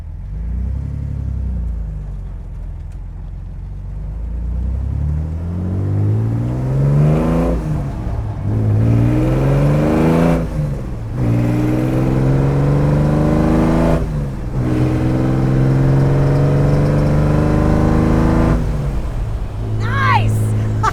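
A one-of-one coach-built Daedalus roadster with an all-aluminum body revs and accelerates up close, its engine climbing in pitch through tight gear shifts in repeated rising pulls, with people talking over the steady rumble.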